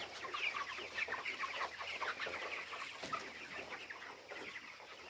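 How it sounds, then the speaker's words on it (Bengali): Chickens cluck steadily in a chicken shed, a dense overlapping chorus of many birds that carries on throughout without a break. "মুরগির শেড আছে"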